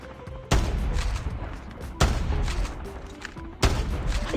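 Gunfire in the mobile shooter game Call of Duty Mobile comes in three loud, sharp bursts spaced over a few seconds, each cracking in suddenly and trailing into rumbling, echoing noise.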